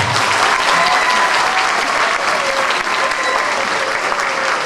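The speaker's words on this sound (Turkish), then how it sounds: "Şeyda Kaya alkışlarınızla." An audience at a spring week school performance applauds steadily and loudly for the whole stretch, a dense even wash of clapping with no pauses.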